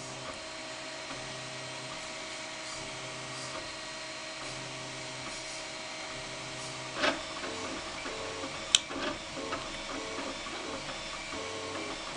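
A 3D printer building a 3/4 by 3/4 inch, 5 inch long pen blank with a 7 mm center hole hums and ticks steadily, with soft tonal whines and a few sharper clicks near the end.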